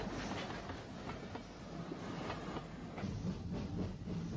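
Isle of Wight railway train, locomotive number 35 Freshwater, running at speed through Smallbrook Junction in the 1950s–60s, with a steady rolling rumble and rhythmic clickety-clack of wheels on rail joints throughout.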